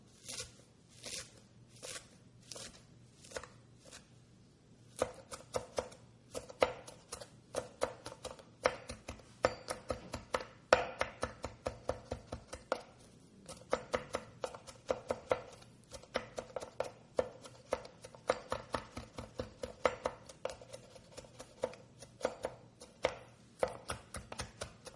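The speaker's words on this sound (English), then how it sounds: "I'm going to cut the stems off" A knife chopping herb stems taps rapidly against a cutting board, sharp chopping strokes in quick uneven runs, close and fairly quiet, with no voices.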